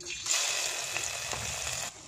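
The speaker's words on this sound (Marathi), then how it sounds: "कढई तापली की त्याच्यामध्ये मॅरिनेट केलेले प्रॉन्स घालूयात." Marinated prawns sizzle in hot oil in a large kadai, a short, soft crackling hiss that rises as they hit the pan and fades quickly.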